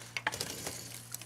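A spoon stirs baked beans in a pot cooked over a small coal fire, making a few faint, quick clinks and scrapes against the pot over quiet background.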